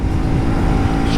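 A 2024 KTM Duke 250 motorcycle engine held at high revs, a loud, close, continuous buzzing drone with no break.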